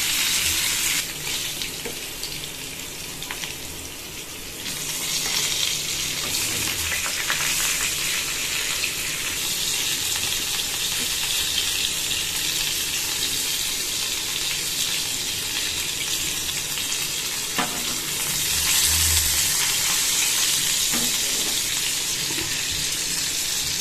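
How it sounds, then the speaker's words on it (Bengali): Pointed gourd (potol) fries in hot oil in a home kitchen without turmeric, giving a steady, even sizzle that runs unbroken for over twenty seconds with no talking. "ব্রাউন ব্রাউন করে পটল ভাজবো, নাহলে ওপরটা পুড়ে যাবে, ভেতরটা কাঁচা থাকবে।"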